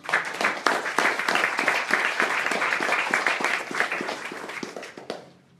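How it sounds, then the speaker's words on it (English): A lecture-hall audience applauds an exhibit team on women and labor history, with dense steady clapping that holds for about five seconds and then tapers off quickly. "let's give the team and Caroline a round of applause"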